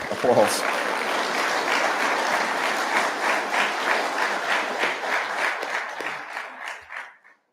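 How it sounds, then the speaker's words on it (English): A graduation audience applauds the instructors of a fire academy class, a dense, sustained wash of clapping from a large crowd that thins and fades out at the end. "Feel free to give them a round of applause."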